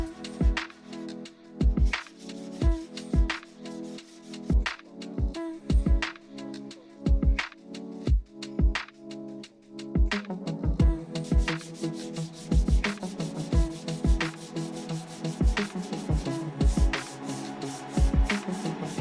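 Steady back-and-forth sanding strokes scrape across body filler on a Mazda MX-5 Miata quarter panel in a repetitive rhythm, close up, with no voices.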